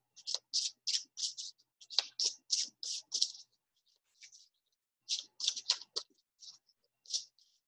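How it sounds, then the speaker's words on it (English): Tarot cards pulled and shuffled from a deck, a close series of crisp papery flicks and snaps in quick bursts, separated by short pauses. "I'm going to pull two of these cards."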